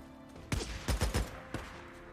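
Gunfire in the Days Gone video game during a fight with a sniper: four or five booming shots in a quick irregular burst, then one more lone shot, fairly close over a low background hum.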